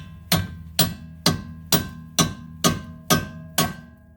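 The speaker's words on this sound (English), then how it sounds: "So now I can use a hammer." Eight sharp, evenly spaced hammer strikes ring out on a bolt being driven into the rear strut of a 2013 Chevrolet Impala, each a loud metallic clang about half a second apart over a low steady hum, with no talking.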